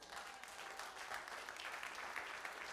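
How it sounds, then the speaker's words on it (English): A church congregation clapping their hands during a sermon, heard as continuous, fairly even clapping at a distance and at low volume. "clap your hands"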